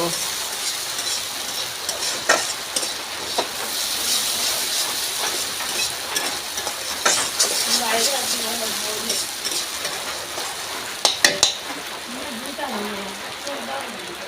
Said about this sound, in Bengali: আদা রসুন ছেড়ে দিয়েছি, এখন ভেজে নেব।